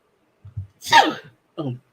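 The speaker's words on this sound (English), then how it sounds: "I gotta sneeze" A single close sneeze: a short intake, a sharp bright burst, then a brief trailing exhale, with no talking around it.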